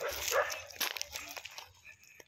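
Dogs bark and yip in short bursts at close range on a beach sandbar at Turtle Island, Siaton, Negros Oriental, several quick barks scattered through a brief noisy moment.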